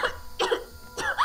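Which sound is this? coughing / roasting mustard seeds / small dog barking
coughing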